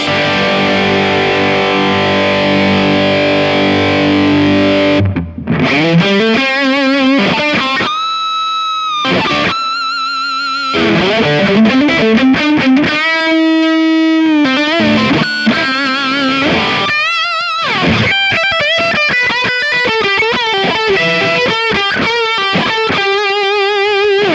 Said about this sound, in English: let's try doing too much distortion. Let's up to 10, just see what happens